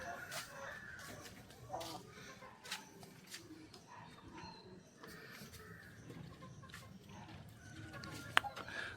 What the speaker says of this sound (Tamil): கீழையும் இந்த கோழிகள் நிற்கிது